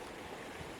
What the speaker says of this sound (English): so there's a lot of river noise as well